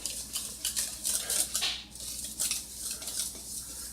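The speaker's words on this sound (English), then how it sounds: "And you whisk the flour and sugar and the salt together." Flour, sugar and salt whisked together in a bowl for old-fashioned banana pudding: quick, brisk scraping and light metallic clinks of a whisk against the bowl, close and continuous, with no talking.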